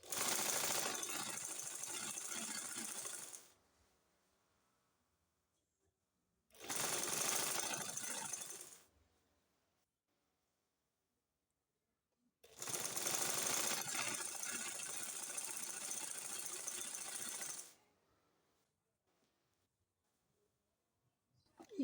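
A sewing machine stitches the gathered neckline of a maxi dress in three close, steady bursts of whirring, roughly three, two and five seconds long, each followed by quiet pauses.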